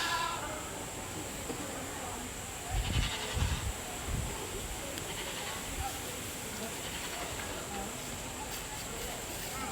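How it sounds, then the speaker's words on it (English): Market goats at a county livestock show give a few short, faint bleats in quick succession, set against quiet hall ambience and distant voices. "our Greenup County class of market goats"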